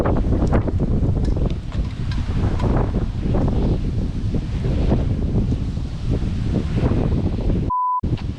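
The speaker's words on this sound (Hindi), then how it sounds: "हवा चल रही है ज़रा 2 मिनट" Strong wind gusting outdoors and buffeting the microphone, a loud, continuous roar that swells and eases, with a brief electronic beep near the end and no talking.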